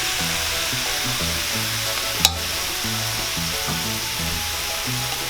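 Paklay sizzling loudly as it is stirred in a frying pan, a steady dense hiss with a rhythmic scraping pattern underneath and one sharp clink partway through.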